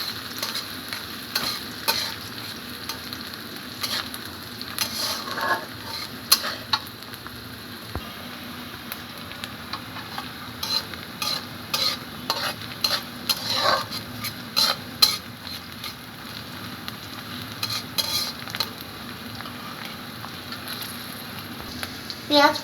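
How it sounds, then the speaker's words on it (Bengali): Sliced onions and green chillies frying in oil in a wok, a continuous close sizzle with frequent scraping stirs and light clinks of the spatula. "এখানে আমি দুটো বড় বড় সাইজের পেঁয়াজ এবং কয়েকটা কাঁচামরিচ চিড়ে এটাকে ভেজে নিব"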